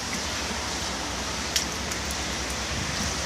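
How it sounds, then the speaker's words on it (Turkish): Heavy rain falls on a flooded balcony as a steady, even hiss with occasional faint drips, continuous throughout and fairly quiet. "Gördüğünüz gibi bayağı bir yağmur yağıyor."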